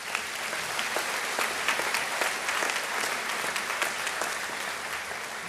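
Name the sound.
audience applause at graduation ceremony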